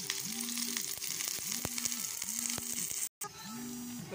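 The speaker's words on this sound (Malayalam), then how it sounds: "ഇതിലേക്ക് ഉള്ളി ഉള്ളിയിട്ട് കൊടുത്ത് മൂപ്പിച്ചെടുക്കാം. നമുക്ക് ഉള്ളി മൂത്തുകൊണ്ടിരിക്കുകയാണ്." Onions fry in hot oil for a medicinal broken-wheat porridge, giving a continuous, close crackling sizzle that runs alone with a brief dropout near the end.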